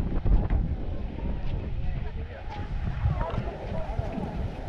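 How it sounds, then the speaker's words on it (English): Wind buffets the microphone between cruise ships at the Grand Turk cruise port, a Carnival-owned terminal, as a steady low rumble with gusty swells throughout. "when we get between the ships, you're going to hear a lot more wind noise because it does become a breeze tunnel"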